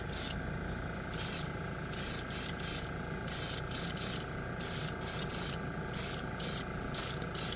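A Grex airbrush lays down a paint base coat in quick, evenly repeated hissing bursts with short pauses between them, heard close and steady throughout.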